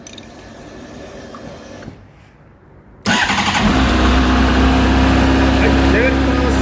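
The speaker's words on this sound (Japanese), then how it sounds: "それではね、エンジン始動いきたいと思います。" A Honda CBR600RR PC40 special edition sport bike fires up after a quiet pause. The engine catches abruptly, then holds a loud, steady, close idle.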